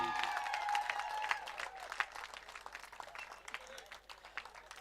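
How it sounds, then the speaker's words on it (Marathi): Sustained applause from an audience at the prize distribution of the Kunbi Yuva Champion Cup 2026 cricket tournament, a dense crackle of many hands clapping for about five seconds, with a voice talking faintly underneath. "जोरदार टाळ्या वाजवा"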